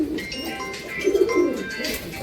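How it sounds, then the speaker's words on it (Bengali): Pure Andhra pigeons of the Kalshira type coo softly nearby in a loft, a low throaty murmur rising briefly in the middle over steady background noise. "পিওর আন্ধ্রা পায়রা আছে কালশিরার মধ্যে, খুবই ভালো কোয়ালিটির"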